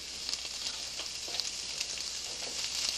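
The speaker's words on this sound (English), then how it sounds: "at this point, we add the garlic. And stir." Garlic and peppers fry in a pan with glazed onions as they are stirred, making a steady, fairly faint hiss with small crackles throughout, close by and without talk.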